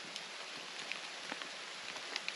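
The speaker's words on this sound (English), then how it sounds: "I'm just sitting here in the rain, so it's not bad, just a little drizzle" Light drizzle falling at a quiet campsite, a soft steady patter of fine drops with occasional slightly sharper taps, faint and continuous with no voices.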